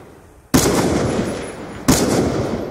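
Two loud gunshots from a Fallout video game, one at the start and another about a second and a half later, each with a long decaying echo tail and no talking.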